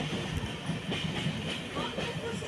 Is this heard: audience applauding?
no